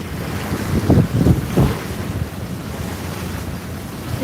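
Tiki boat cruising off Palm Beach Island, with steady wind buffeting the microphone over water rush and rumbling low thumps from the hull and motor, no voices.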